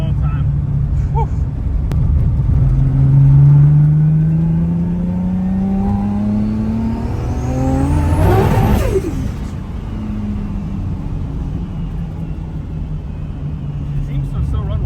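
A Rat Rod Toyota Supra engine that has sat for a long time warms up and revs loudly nearby. Rising and falling revs sweep up to a sharp peak before settling back to a lower idle, and voices can be heard underneath.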